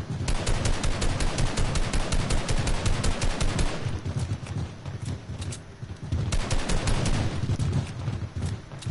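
Fireworks going off in rapid continuous crackling volleys, loud and close, with a brief lull in the middle before another dense run of pops.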